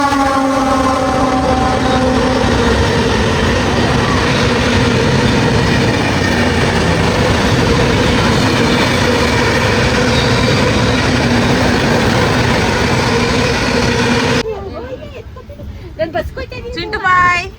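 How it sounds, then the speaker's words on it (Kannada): A train pulls into a crowded station near Mantralaya with a loud, sustained rumble and drawn-out horn tones, the noise falling away near the end, when people can be heard talking. "ಟ್ರೈನ್ ಬಂತು."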